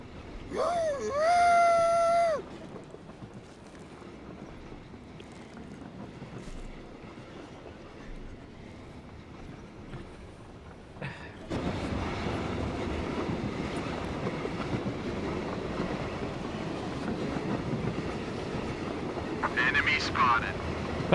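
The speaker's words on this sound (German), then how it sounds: "Wie macht der Zug nochmal" Train in the PUBG battle royale game, a horn-like wail at the start, then a long rumbling, rattling passage that swells louder midway, with voices talking over parts of it.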